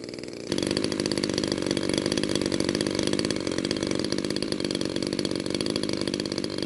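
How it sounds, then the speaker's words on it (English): Brand-new Stinger 15cc gasoline engine on an RC plane running during break-in, starting with a quieter idle and then rising into a loud, steady, buzzing high-revving drone that holds for several seconds up close. "we can accelerate a little bit for a few seconds, not pushing the engine too much because it's a brand new engine"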